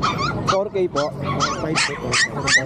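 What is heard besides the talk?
dogs barking at pet market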